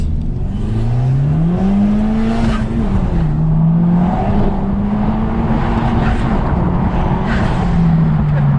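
A fast car accelerating hard in normal driving mode, its loud engine drone climbing and settling in long surges with faint tyre hiss, continuous for several seconds.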